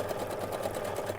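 A sewing machine stitches a Frozen Elsa Halloween costume, a fast, steady mechanical whir with rapid regular needle ticks running continuously at close range, without speech.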